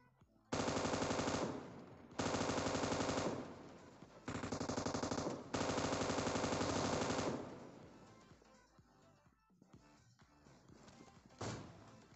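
Automatic gunfire from a Groza rifle in a shooter video game, four long sustained bursts of rapid shots, loud and close, followed by quieter scattered game sounds and a final faint burst.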